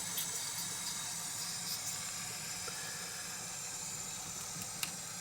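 A syringe pushing water through the fang of a Russell's viper gives a steady close hiss with fine spraying texture and a faint tick near the end, with no voices over it.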